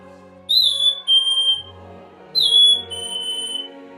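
A Lamy chickadee bird whistle imitates a black-capped chickadee song: two repeated high, thin, sweet two-note phrases, each a bright falling note followed by a steadier lower one, clear and close.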